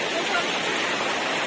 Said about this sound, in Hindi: इतना मस्त झरना।